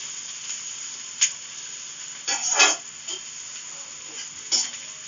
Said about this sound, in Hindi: इसलिए हम इसको बस हल्के से फ्राई करेंगे